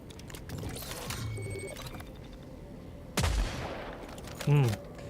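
A railgun fires in the video game Killing Floor 3, two sharp, loud discharges a little over a second apart, standing out against quieter in-game mechanical noise and faint clatter.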